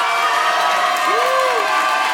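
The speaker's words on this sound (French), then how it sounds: "Mesdames, messieurs, s'il vous plaît, par applaudissement" A comedy club crowd cheers and claps in a steady roar, with whoops and a rising voice riding over the continuous applause.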